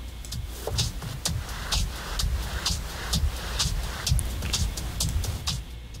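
Pink noise run through an FL Studio 12.5 Patcher effects chain comes out as a steady hiss that pulses in a regular rhythm, at moderate level and with no voices.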